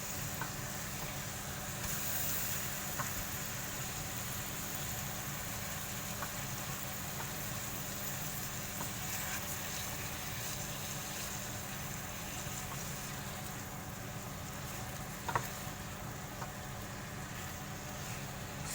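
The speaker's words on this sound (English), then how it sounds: "we want to fry the meat, brown the meat a bit, and it also helps the spices stick to the meat" Lamb meat frying with spices in a pan for a potato and lamb curry, a quiet, steady sizzle with faint stirring scrapes and one brief louder clatter near the end, no talking.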